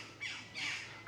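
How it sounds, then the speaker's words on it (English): Crows squawk up in the surrounding hills near Ruthin, Wales: two harsh, distant caws in quick succession, faint against a quiet background. "And the crows having a fit up there."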